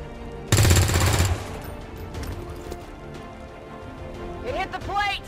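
A short loud burst of rapid turret gunfire in XCOM 2, followed by quieter game sounds and a brief voice near the end.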